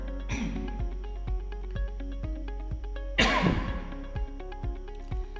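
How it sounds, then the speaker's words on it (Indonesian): A person coughs twice outdoors while setting out a building corner on a construction site. The coughs are spaced a few seconds apart, and the second is louder and rougher, over a steady background hum. "selalu ada batuk-batuknya ya"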